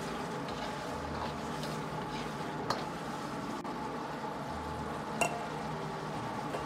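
Smashed garlic stir-fried in a wok with potatoes and pork intestines, a steady close sizzle and hiss with a couple of faint scrapes of the spatula, no talking.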